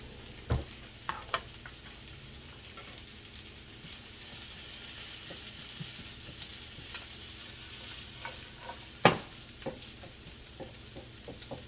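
Asparagus stir-frying in Kikkoman soy sauce gives a soft, steady sizzle. Occasional scrapes and taps of a spatula sound up close, with no talking.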